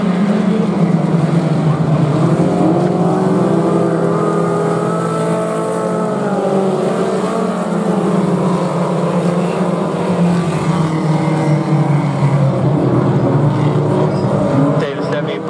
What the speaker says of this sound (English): Your pro and stock pony underway.